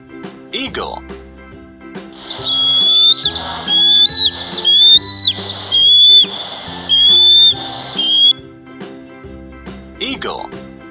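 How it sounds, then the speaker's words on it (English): A high, whistling eagle cry repeats in a series of rising and falling calls for several seconds. Brief voices are heard just before and after it. "Eagle."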